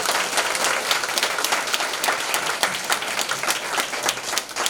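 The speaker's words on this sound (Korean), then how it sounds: "큰 박수 부탁드리겠습니다." An audience claps at the close of a book author's lecture on leadership, a steady, dense applause of many hands filling the room for about five seconds with no one speaking.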